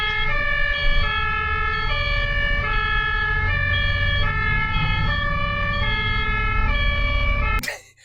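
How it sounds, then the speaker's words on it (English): An ambulance siren wails in a loud two-tone cycle on a blocked road in Germany, sounding continuously over low traffic rumble before cutting off abruptly. "there must be an ambulance coming"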